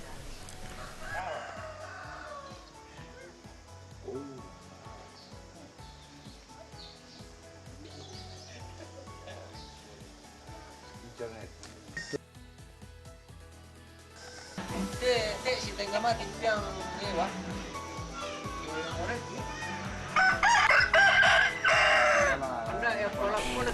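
Roosters crowing in Sulawesi, loud drawn-out calls standing out near the end over a busy village background, with a voice and other sounds mixed in.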